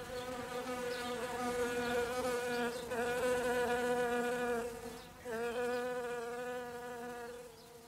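Thousands of insect wings buzz around a flowering tree with creamy blossoms, a dense, continuous drone that swells and dips briefly, loud and close with no voices.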